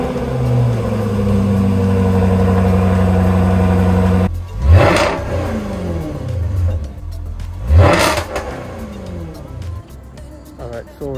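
Facelifted Jaguar XKR-S S150 engine at a steady idle, then two sharp, loud revs that climb and fall away, the second about three seconds after the first.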